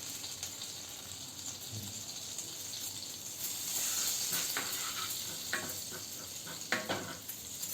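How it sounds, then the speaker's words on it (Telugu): Butter melts in a pan for restaurant-style butter chicken, giving a soft, steady sizzle with gentle bubbling and a few light clinks of utensils against the pan. No one speaks. "అదే ప్యాన్లో ఇప్పుడు బటర్ వేసుకుందాం."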